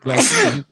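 One sudden, loud sneeze sounds close to the microphone and ends abruptly after a fraction of a second.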